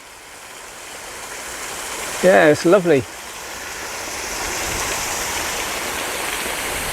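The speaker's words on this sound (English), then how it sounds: "And a waterfall." A coastal waterfall along the England Coast Path in Somerset, caught in the breeze, gives a continuous, fairly faint splashing rush that fills the background while a voice briefly speaks over it.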